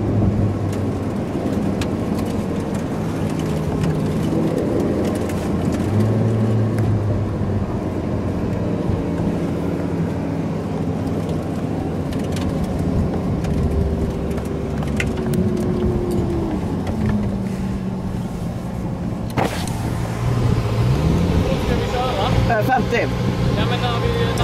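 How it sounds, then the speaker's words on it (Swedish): A Koenigsegg Agera R runs against a stock Ferrari 458 Italia. A steady engine drone with shifting pitch comes from inside a car while people talk over it throughout. "we're gonna try stock 458 Italia Ferrari versus Koenigsegg"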